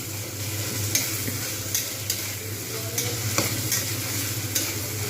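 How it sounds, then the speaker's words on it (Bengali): Tomatoes, green chillies and spices with sugar sizzle in hot oil as they are stirred and sautéed, a steady close frying hiss broken by periodic scrapes and clinks of the spoon against the pan. "যতক্ষণ পর্যন্ত না এটা মেল্ট হচ্ছে আমি ততক্ষণ পর্যন্ত কিন্তু আমি এগুলো খুব ভালোভাবে কষবো"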